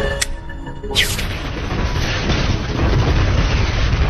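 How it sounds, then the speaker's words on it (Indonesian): A big film explosion as a building is blown up, a sharp blast followed by a loud, sustained rumbling roar that fills the rest of the moment. "Damon pun meledakkan tempat itu sehingga ia dan para musuhnya yang mengejar Victoria pun tewas"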